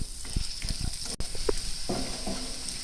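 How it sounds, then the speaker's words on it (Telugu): Chilli flakes and cumin fry in hot oil for garlic rice, giving a loud, steady hiss and sizzle with a few soft clicks of stirring close by. "వేసి మంచిగా లైట్ గోల్డెన్ కలర్ వచ్చే వరకు ఇలా ఫ్రై చేస్తూ ఉందాము"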